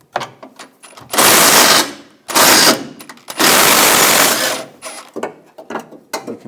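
A ratchet on a 15mm socket removes bolts holding the air intake splash shield bar on a 2014-2018 GMC Sierra, loud rapid clicking in several bursts separated by brief pauses, with lighter handling clicks between.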